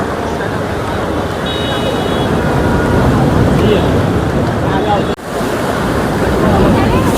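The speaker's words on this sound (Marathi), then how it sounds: "ती जबरदस्त लाट आहेत आज. या लाट आली बघा." Rough monsoon sea surging against the seawall along Marine Drive in Mumbai during heavy rain: a loud, continuous roar of surf and gusting wind, with a brief dip before the wash swells again.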